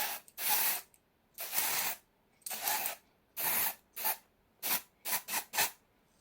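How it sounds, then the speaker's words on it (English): Lace tint spray hisses onto the lace of a wig in about ten short, sharp bursts, some spaced apart and others fired in quick succession, close and clear in a quiet room. "I want to try and, you know, spray this lace."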